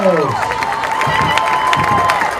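Crowd roaring for a Hammonton touchdown at a Friday night high school playoff football game against Ocean City, a loud sustained cheer with whistles and shouts throughout.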